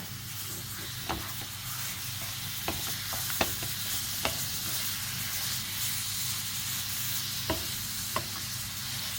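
Continuous sizzling hiss of chicken breast frying in a pot, with occasional scraping stir clicks and a low hum underneath.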